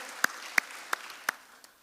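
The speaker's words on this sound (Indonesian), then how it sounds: "Yang sepakat boleh tolong beri tepuk tangan sekali lagi yang terbaik buat Tuhan kita." Scattered claps from a church congregation at a Sunday worship service, a few sharp isolated claps spaced about a third of a second apart, fairly faint, with no talk.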